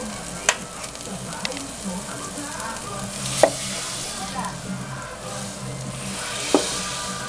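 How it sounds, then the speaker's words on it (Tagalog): Butter melts and sizzles in a pan for Filipino-style garlic bread, giving a steady soft hiss with a few sharp clinks of a utensil against the pan. "Antayin lang natin malusaw ang butter bago natin ihalo ang ating parsley and garlic."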